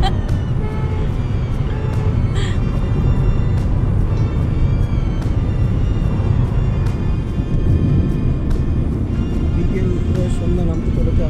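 A car driving on the highway from Kolkata to Shantiniketan at speed, with a constant road and engine roar throughout and occasional brief clicks, while people talk over it.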